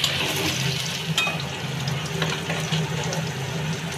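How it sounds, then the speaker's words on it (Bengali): Chopped onion frying in oil until light brown, a steady bubbling sizzle close by with occasional soft stirring clinks. "কুচিটা হালকা ব্রাউন কালার করে ভেজে নেব।"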